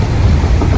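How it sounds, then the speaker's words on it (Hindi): Monsoon rain falling after a heavy downpour, a loud dense wash of steady drizzle and patter close by, continuous with no voices. "अभी भी बूंदाबांदी दोबारा शुरू हो गई"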